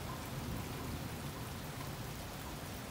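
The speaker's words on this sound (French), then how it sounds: "C'est un sacré orage" Heavy rain from a violent summer supercell thunderstorm over Clermont-Ferrand, a dense, even wash of downpour hissing steadily and fairly faintly throughout, with no voices.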